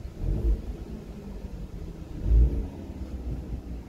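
A Ford Mustang V8 idles in neutral with a low, steady rumble at close range, quiet overall, with a couple of brief swells in the throb.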